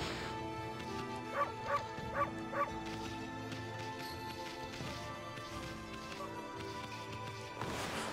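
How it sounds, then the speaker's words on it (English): Dogs in the video game Okami bark in a quick run of four short yips near the start, then quieter whimpers and yips over steady game music. "I was like, barking?"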